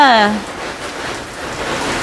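Steady rain falling outdoors, a close, broad hiss that fills the whole stretch evenly after a short voice fragment at the start.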